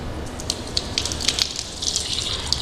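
Water from a tap splashes steadily while a face is washed for wudu, a continuous close rush with small irregular splashes and drips.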